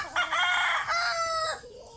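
A single short cock-a-doodle-doo crow from a young broodcock rooster, close and clear, lasting under two seconds.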